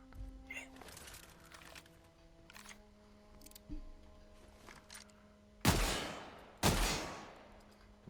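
Two loud, sharp shotgun blasts in The Outer Worlds, about a second apart, each followed by a short rumbling decay, coming after quieter game clicks and menu sounds.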